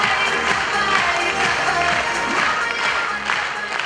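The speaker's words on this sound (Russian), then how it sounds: "Ваши аплодисменты!" Audience applause at a KVN comedy show, steady massed clapping from a crowd with a faint cheer, overlapping with background music and a low rhythmic beat throughout.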